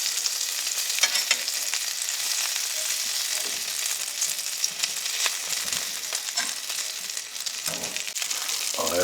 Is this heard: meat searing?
yes